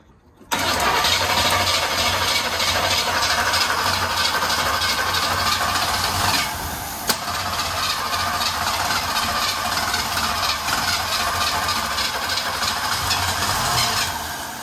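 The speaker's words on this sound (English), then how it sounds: "we're coming up on attempt number 17 to get this sucker started" An old Toyota truck engine that sat unused for years cranks and then catches, running steadily and loudly at a rough idle for over ten seconds with no voices.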